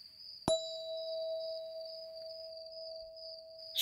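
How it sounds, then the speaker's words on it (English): A single bell struck once to close a guided visualization, a clear ding followed by a long, pure sustained ring that fades slowly and stays alone in a quiet space, with a second strike starting right at the end. "Apollo's bell signals the end of the journey."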